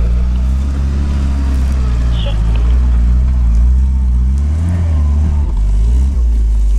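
Rally car racing across a swamp track toward the finish, a loud, steady low engine drone with shifting rev tones, close and continuous.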